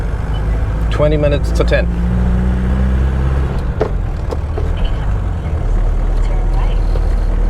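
A Mercedes W115 oldtimer car drives along a road in France, its steady engine and road rumble running continuously while someone talks over it.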